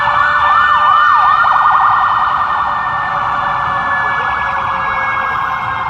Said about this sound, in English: I'm sorry about the siren sound in the back, ambulance, trying to let it pass